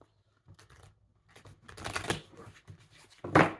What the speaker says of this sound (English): Feels like a fight trying to get these cards to shuffle.